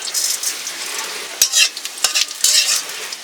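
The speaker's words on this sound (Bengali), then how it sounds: "আমি জিরে দিয়ে দিচ্ছি" Cumin seeds sizzling in hot oil in a wok for a paneer masala, a loud steady hiss broken by several sharp crackles and spatters, with no talking.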